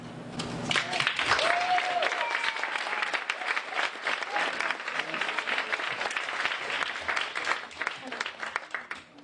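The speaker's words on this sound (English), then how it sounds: "Try to hold your applause to the very end" Lively applause from a rowdy audience at a county supervisor candidate forum, sustained dense clapping over about nine seconds with voices and cheers mixed in.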